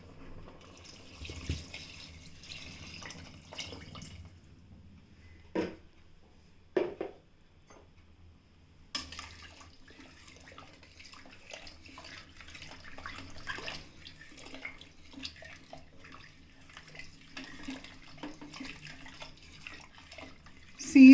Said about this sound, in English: Now I'll add sufficient water.